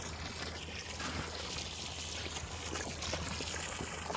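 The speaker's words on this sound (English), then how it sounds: "Let me fill up this water real good" Water pours and trickles steadily into a container at a farm, a continuous splashing stream heard up close for the whole stretch with no talking.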